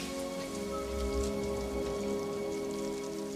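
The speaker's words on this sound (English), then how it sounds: "I wish the rain would stop just once." Steady rain falls and patters on a surface, an even close hiss of drops that continues unbroken for a few seconds with no voices.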